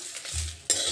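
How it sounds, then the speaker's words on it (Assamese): Spices being stirred and scraped in a pan while dry-roasting for Assamese plum pickle, with a soft scratching stir, a faint sizzle and a sharp scrape near the end, close and quiet. "মই এতিয়া এই মছলাখিনি ভাজি লম"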